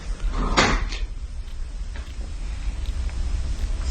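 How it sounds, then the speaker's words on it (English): Wooden attic door moving on its own in a house, with one sharp knock or clunk of the door followed by low rumbling room noise and faint scattered thuds. "The door to the attic somehow opens on its own as soon as Nick approaches it."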